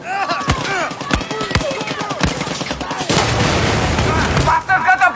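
A grenade goes off in a Far Cry 6 firefight: sharp gunshots crack first, then a loud sustained explosive roar takes over near the end, close and heavy, with shouting voices mixed in.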